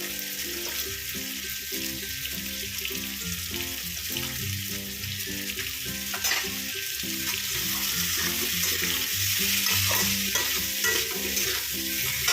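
Potatoes seasoned with salt and turmeric fry in a pan for a fish curry, a steady close sizzle with repeated rhythmic stirring scrapes that grows slightly louder toward the end.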